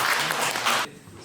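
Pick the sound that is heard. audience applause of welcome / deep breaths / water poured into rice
audience applause of welcome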